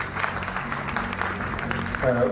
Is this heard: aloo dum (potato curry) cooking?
no